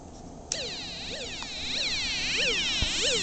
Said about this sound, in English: there's the water detection alarm going off